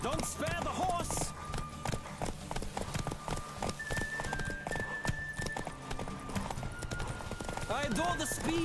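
Hooves of Roach, the horse in The Witcher 3, clip-clop steadily at a fast run during a race, with wind, music and game effects layered throughout and a voice talking over it.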